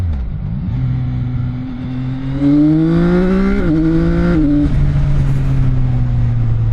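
A CFMOTO 675NK three-cylinder motorcycle engine with standard exhaust idles then revs up in a rising, throaty drone, holding a loud steady growl close by before settling.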